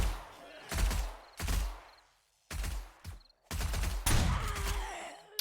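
Bursts of gunfire in the zombie survival game 7 Days to Die: loud clustered volleys of shots separated by short silent gaps, with a sharp final barrage.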